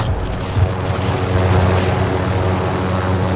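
A helicopter in Call of Duty throbs close and loud with a deep, rumbling rotor wash that holds steady throughout, with no talk over it.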